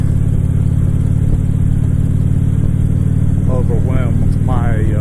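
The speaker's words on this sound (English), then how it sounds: "overwhelmed my regular mic with the motorcycle sound" A motorcycle engine drones loudly and steadily close by for the whole stretch, a thick low rumble, with a voice briefly talking over it near the end.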